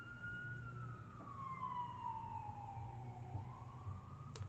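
An ambulance siren passes outside a house, faint and distant, with a single long wail sliding slowly down in pitch then rising, heard through walls over low room noise.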